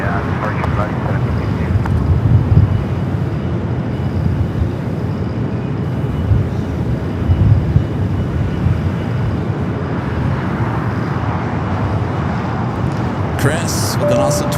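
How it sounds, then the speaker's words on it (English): A Boeing 747-8 Intercontinental departing Los Angeles LAX for Frankfurt gives a broad, rumbling jet roar with wind buffeting that swells and eases over the clip, with faint voices underneath near the end. "Flight heading back to Frankfurt in the 747-8 Intercontinental."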